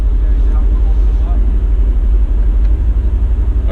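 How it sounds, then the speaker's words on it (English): A 2019 Mercedes-Benz C63S sedan's exhaust rumbles deep, loud and steady at idle with the exhaust valves opened, heard up close. "All right, now let's open up the valves real quick."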